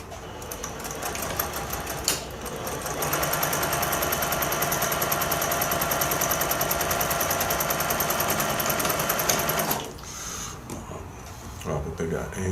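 A sewing machine stitches a quilt block, a rapid steady mechanical chatter running for about seven seconds after a brief start, then stopping, with light handling noises around it and no clear talk.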